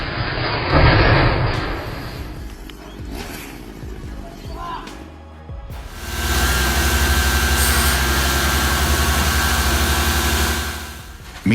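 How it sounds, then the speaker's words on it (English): A Rapido Loco 20 wood splitter with a 73 horsepower Deutz diesel engine and carbide-tipped saw runs loudly, a steady droning roar starting midway and holding, preceded by mixed handling noises. "With a 73 horsepower Deutz diesel engine and a 50-inch carbide tip saw, it tears through wood effortlessly."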